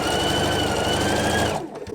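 A sewing machine hums steadily for about a second and a half while stitching a quilt star seam, then stops abruptly; close and loud, with no talk.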